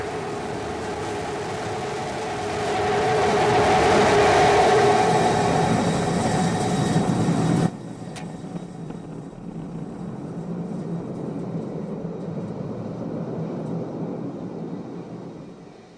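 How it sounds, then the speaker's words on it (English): Roar from the rocket engines of a SpaceX Starship SN15 during its landing burn: a steady, broad rumble that swells, then drops abruptly to a quieter low hum. "We have ignition. Starship heading back to the landing zone."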